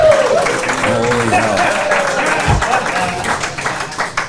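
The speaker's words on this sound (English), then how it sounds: "We've never had an applause break in the middle of an ad before." Audience applause breaks out at a live comedy brunch show after a guest brings an assortment of meats from Smoking Goose Charcuterie: dense, steady clapping throughout with crowd voices and a brief thud mixed in.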